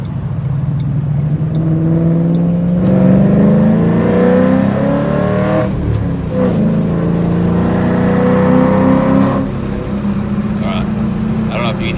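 A Ford Mustang 3V with a loud catless X-pipe exhaust revs hard up close, its deep roar climbing and falling through several throttle blips.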